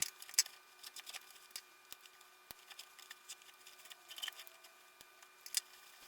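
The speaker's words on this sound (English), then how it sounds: "So I'm just going to take a pair of scissors, snip these, pull them out" Scissors snip twine on the burlap of an antique chair, quick sharp close clicks and small rustles scattered irregularly over a quiet background.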